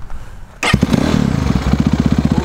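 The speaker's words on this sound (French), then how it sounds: "petit démarreur électrique en plus du kick," A 2022 BHR 300 motocross bike fires up on its electric starter: a quiet whir, then the engine catches with a sudden loud burst and settles into a rapid, throbbing two-stroke-like idle, very close.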